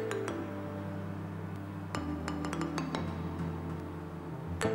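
A glass cup of water being set down inside a microwave oven clinks sharply several times over a steady low hum, close and fairly loud, with a final clink at the end.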